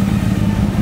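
The engine of a Honda CBR1000 motorcycle on a beach gives a brief, close, throbbing rumble as it is revved.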